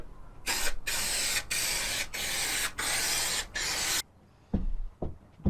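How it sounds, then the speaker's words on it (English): Several bursts of loud, hissing spray insulation inside a Peugeot Boxer camper van, each a second or so long with short breaks, followed by a few quieter knocks and handling sounds. "Similarly, spray the insulation."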